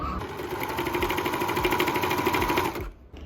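A sewing machine overlocks the edge of tweed fabric for a dress, a close, rapid, even mechanical chatter that runs steadily for nearly three seconds and then stops abruptly, with no talking.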